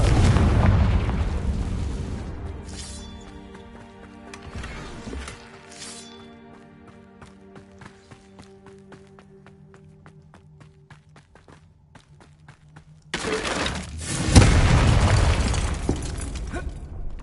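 A Confringo blasting spell in the Hogwarts video game bursts loudly at the start, a ringing tonal decay follows, then a second heavy explosion hits near the end.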